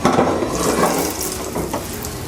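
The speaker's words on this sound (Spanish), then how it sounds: "Echamos nuestras patatas." Potatoes splash into a pot of cooking broth, a close wet churning of liquid with small splashes over a couple of seconds.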